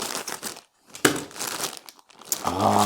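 A plastic package is cut open, giving close, loud crinkling and rustling in irregular bursts with brief quiet gaps and a sharper crackle near the end.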